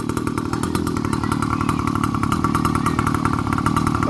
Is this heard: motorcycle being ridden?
yes